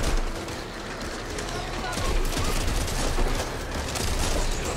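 Rapid gunfire from a weapon in the zombie shooter game Back 4 Blood, firing continuously while being reloaded, a steady dense barrage of close, loud shots with mechanical clatter running through the whole stretch.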